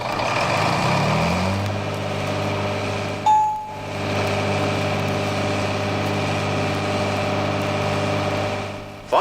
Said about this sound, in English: let's move out to the field and watch the 5010 in action.